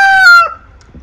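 A rooster crows loudly and close by, one long harmonic call that breaks off abruptly after about half a second, followed by quiet.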